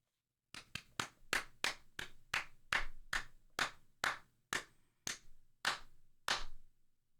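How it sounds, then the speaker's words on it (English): Slow, deliberate claps from a single pair of hands, about a dozen sharp, close-up smacks spaced roughly half a second apart and slowing slightly toward the end, with nothing else heard between them. "Slow claps are wonderful."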